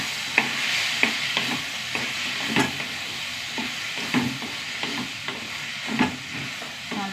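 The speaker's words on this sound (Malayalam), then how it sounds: "നന്നായി ഇളക്കി വഴറ്റി" Food with turmeric being stirred and sautéed in a pan, a steady sizzle broken by repeated scraping clicks of the spoon at an uneven rhythm, close and moderately loud.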